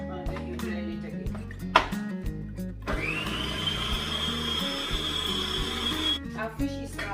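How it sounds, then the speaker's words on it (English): A kitchen blender pureeing black-eyed beans for moi moi starts about a third of the way in, a loud steady high-pitched whir that runs for several seconds and then cuts off, preceded by clattering and handling sounds. "And then you blend it again."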